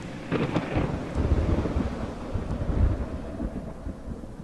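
Deep rumbling thunder rolls steadily from a Saturn 7 speaker outdoors, with a crackling onset and low sustained booms throughout.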